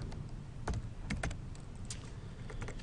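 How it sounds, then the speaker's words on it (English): A computer keyboard clatters with a short burst of separate keystrokes, ending on a press of the enter key, close and fairly quiet in an otherwise still room. "I'm going to go ahead and hit enter"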